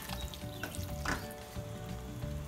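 Matar keema, minced meat with peas, frying slowly in a pan over a low flame, a steady soft sizzle throughout with an occasional brief stir, close and alone without any voices.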